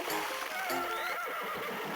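A horse in a video game gives a loud, close whinny, a sustained quavering neigh that rises and falls for about two seconds, with faint hoof clip-clop beneath.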